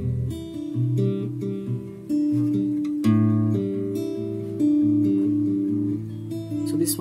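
Acoustic guitar plays a short melodic intro to a song, picked notes moving over ringing bass strings with a few strummed accents, steady and close, no talking.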